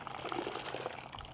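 Water being squeezed out of a soaked, heavy plush car wash mitt: a faint, continuous wet splatter and trickle of liquid pouring out, close by and alone.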